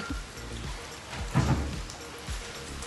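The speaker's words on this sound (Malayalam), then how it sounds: "ചെറിയ ചാറ്റൽ മഴയൊക്കെ ഉണ്ട് കേട്ടോ ചെറുതായിട്ട്" Light evening drizzle patters softly and steadily outdoors behind a house, with a gentle continuous hiss and a few closer drops.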